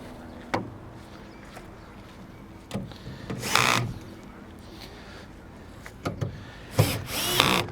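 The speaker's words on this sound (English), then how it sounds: "And then we go around just making sure all the bolts are tightened" A power tool tightens rigger bolts on a rowing boat, giving several brief whirring bursts between clanks and taps, close by and moderately loud, with faint background noise.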